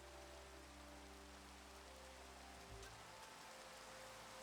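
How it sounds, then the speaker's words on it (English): Steady rain in Minecraft patters in a soft, even hiss, faint and continuous, with a low electronic hum underneath that cuts out partway through. "It's raining."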